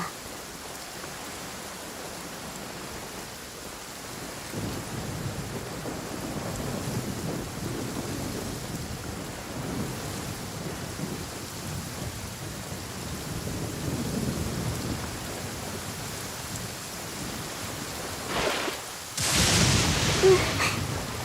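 Steady rain patters on a surface while low thunder rumbles through the middle, building in places, before a sharper, louder burst near the end.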